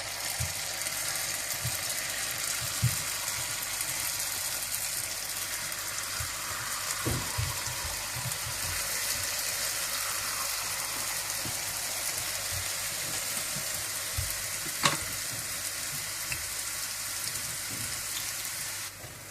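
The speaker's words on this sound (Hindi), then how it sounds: "अब आप घी में इसको गोल गोल जलेबी की शक्ल में ऐसे बना दें" Jalebi batter piped in round spirals into hot ghee over medium heat, frying with a steady, dense sizzle and bubbling throughout, with a few faint knocks and clinks.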